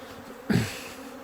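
Honey bees crowded on the front of a hive in Newfoundland buzz close by, the humming swelling in one sudden loud surge before easing back to a steady drone.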